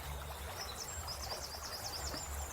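Water flowing along a river during a walk on a lovely day: a steady, broadband rushing wash runs throughout at moderate level, with a low rumble underneath and faint, scattered bird chirps above.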